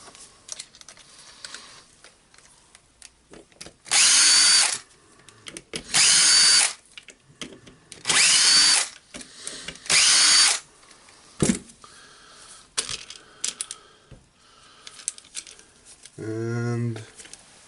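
A cordless drill or screwdriver removes cover screws from a Hilti TE 706-AVR breaker hammer, four short whirring bursts in a row with handling clicks and rattles between them, ending in a rising ratchet-like buzz, while someone talks.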